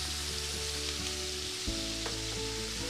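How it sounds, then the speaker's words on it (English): Thinly sliced yellow onion and chopped celery sauté in a hot pan, giving a loud, continuous sizzle close by with a brief stirring shift midway. "I'm going to let this saute for 3 to 4 minutes until the onion is just short of browning"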